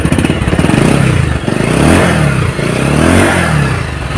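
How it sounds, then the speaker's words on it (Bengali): A used second-hand motorcycle revs through its exhaust silencer close by, loud repeated rises and falls of the throttle with a clattering, throaty pulse and no talking. "স্যালেন্সারের সাউন্ডও কিন্তু একদমই নিখুঁত আছে"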